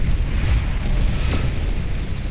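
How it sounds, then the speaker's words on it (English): Nuclear bombers blow up in the strategy video game Beyond All Reason in a loud, sustained roaring rumble with a brief sharper crack partway through and no talking. "So that explosion does take out all those bombers, shuts them all down"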